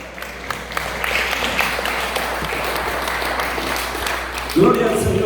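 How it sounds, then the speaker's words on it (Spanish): Church congregation applauding during a Spanish-language worship service, a steady wash of clapping that swells briefly near the end, with voices mixed in. "denle un fuerte aplauso al Rey"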